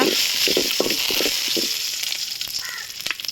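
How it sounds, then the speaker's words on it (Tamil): Dried red chillies fry in oil in a kadai, making a crackling, spitting sizzle with scattered sharp pops that thins into a softer hiss toward the end. "நம்ம தேவையான அளவு எண்ணெய் ஊற்றிக்கலாம் சேர்த்தாச்சு வரமிளகாய் சேர்த்துக்கோங்க சேர்த்து நல்லா கிண்டிக்கோங்க"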